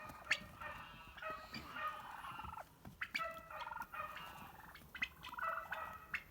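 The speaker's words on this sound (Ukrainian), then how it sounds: "індики." Several turkeys gobble repeatedly in rapid, warbling bursts, fairly close and overlapping, with quiet farmyard ambience between calls, on early snow.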